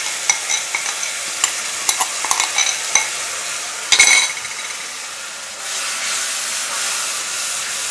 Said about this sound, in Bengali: এইবার আমি যে পেস্টটা তৈরি করে রেখেছি ওটা এর মধ্যে দিয়ে দিচ্ছি